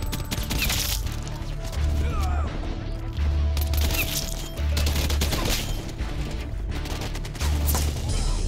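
Pistol fire from a 1911 handgun in a Call of Duty Black Ops multiplayer match, loud repeated shot bursts with dense surrounding battle noise and scattered gunfire throughout.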